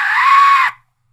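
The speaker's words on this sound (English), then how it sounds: "If you blow it full, it sounds like a woman screaming for death." An Aztec death whistle blown hard gives one loud, sustained, high shrieking wail like a woman screaming, lasting under a second before cutting off into silence.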